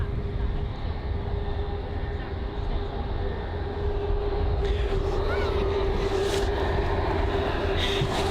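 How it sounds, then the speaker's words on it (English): A Jet2 Boeing 737-800 on final approach at Bristol Airport in gusty wind gives a steady, loud broadband engine roar that swells and grows harsher toward the end, with wind noise throughout. "you can see there the Jet 2 737-800 struggling there when coming on the final approach"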